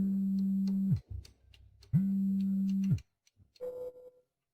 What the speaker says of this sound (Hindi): कहीं वह पागल लू यंशन फिर से तो फोन नहीं कर रहा?